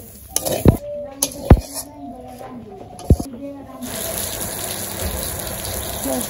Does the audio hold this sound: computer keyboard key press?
no